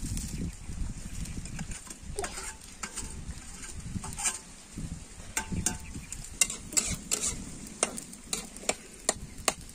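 Onions frying in a pan for a drumstick flower omelette, a steady close sizzle with rustling stirring and a run of sharp scraping ticks toward the end, no voices.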